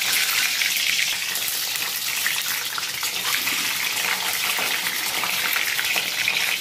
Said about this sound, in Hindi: मेरा अंडा बॉईल हो चुका है, अब इसे मैं फ्राई कर देती हूँ